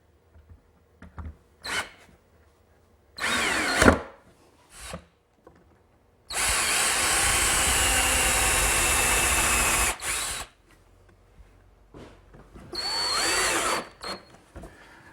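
A power drill drives a screw into a wooden slat of an Adirondack loveseat, with short bursts of whirring, then one long steady run of about four seconds, followed by another shorter burst and light handling clicks.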